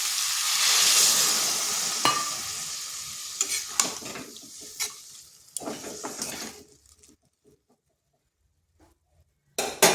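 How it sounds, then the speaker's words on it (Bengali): A bowl of water poured into cucumber ghonto cooking in a pan sets off a loud hiss that fades over several seconds, with spoon clatter and scrapes, then silence and a final clank. "এরপর এখানে 1 বাটি জল দেব"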